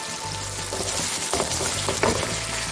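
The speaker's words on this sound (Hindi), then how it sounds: "जब तक हमारा प्याज गोल्डन होता है" Chopped onions frying in oil in a pan for a bottle gourd curry, a steady loud sizzle throughout with a few stirring scrapes, no voices.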